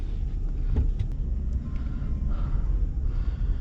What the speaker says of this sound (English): get out and test drive this V8 two drive F-150